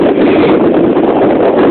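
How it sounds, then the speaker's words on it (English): Loud, constant wind buffets the microphone in a low, rumbling roar with no break. "it's pretty windy, it's pretty windy"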